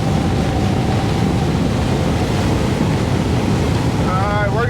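A Robalo 266 Cayman running through waves with no trim tabs, the heavy hull chopping hard into the chop; loud, steady engine and wind roar with continuous water rush and spray from start to finish.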